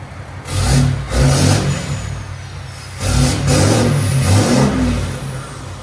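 A Ram 2500 pickup with a 6.7L Cummins diesel and straight pipes revs hard twice in deep, roaring bursts, each rising then easing back to a rumbling idle, loud and close.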